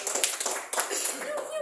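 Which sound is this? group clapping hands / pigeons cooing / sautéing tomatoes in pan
group clapping hands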